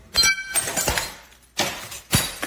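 Glass breaks and crunches in a heated domestic confrontation at a home doorway, several sharp tinkling bursts and clinks spaced apart, close and moderately loud.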